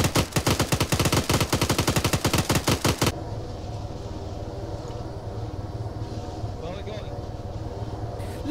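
Rapid burst of coaxial machine gun fire from a tank in a video game, loud evenly spaced shots for about three seconds, then only a low engine rumble remains.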